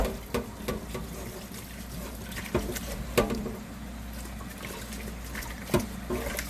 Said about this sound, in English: And you just keep rinsing out your bowl until it's clear.